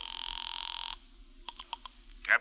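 A telephone rings in a radio drama set scene, a steady electric bell tone for about a second, then stops, followed by a few soft clicks and a brief louder rustle as the receiver is handled.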